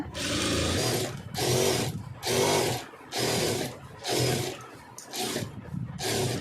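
Seven short runs of a sewing machine stitching fabric lining at a garment's shoulder join, each burst a loud, close mechanical whir separated by brief pauses.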